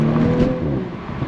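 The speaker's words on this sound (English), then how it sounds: "It sounds really, really good. For a stock exhaust" A stock-exhaust B9 Audi S4 engine rumbles loud and close with a steady low burble and a brief swell near the start, no voices over it.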